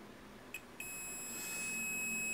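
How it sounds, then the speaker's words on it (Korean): A multimeter set to diode mode, probing a BLDC motor's leads, emits a brief chirp and then a steady, high continuous beep that holds to the end, fairly quiet and close. "삐 소리 나지 않습니까?"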